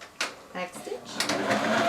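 Sewing machine backstitching a skirt seam, a brief whirring run mixed with a voice talking over it, ending in a faint steady tone.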